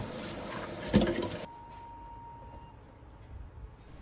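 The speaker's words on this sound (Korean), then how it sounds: "미끄럽지 않도록 흐르는 물에 잘 헹궈주세요." A stainless steel pot is rinsed under running tap water in a short burst of splashing that cuts off abruptly, leaving near silence.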